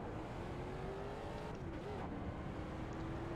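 Street stock race car engine in the iRacing simulator at Charlotte, a steady droning engine note that dips briefly and recovers, heard low and constant throughout.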